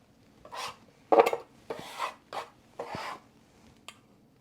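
Biscuit dough being folded in thirds with a bench scraper, giving six short scraping, rasping strokes at an uneven rhythm, close and fairly quiet, with no talking.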